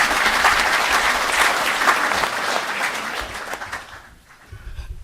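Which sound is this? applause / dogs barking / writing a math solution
applause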